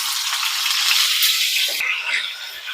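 Tomato pieces dropped into a few spoons of hot oil for an instant tomato pickle, giving a steady broad sizzle with a brief clunk partway through as the frying continues close up.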